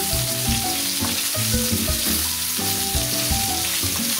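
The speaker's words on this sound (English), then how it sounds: "The last two additions to risotto are a knob of butter, and you need to mix that in." Risotto sizzles loudly in a hot pan as a knob of butter is stirred through it, a dense continuous frying hiss broken by rhythmic scraping strokes, close and alone.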